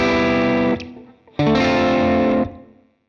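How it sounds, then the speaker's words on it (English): Electric guitar strung with copper-plated strings, played through distortion and effects: two sustained, ringing chords, the first cut off abruptly, the second held then fading into a short tail, heard alone. "In case anyone is wondering what copper-plated strings sound like, they're basically like normal strings"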